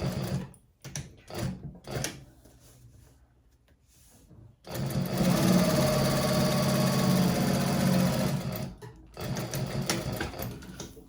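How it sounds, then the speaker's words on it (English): A sewing machine runs a steady top stitch along the top edge of a handbag, a continuous mechanical whir lasting several seconds, bracketed by shorter stop-start bursts of stitching before and after. "And then I'll do a top stitch about 1/8 of an inch from the top edge."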